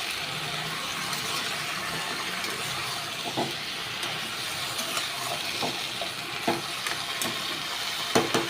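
Hilsa fish head frying in a pan with turmeric added, a steady soft sizzle and hiss running throughout with a few small pops and clinks of stirring near the end.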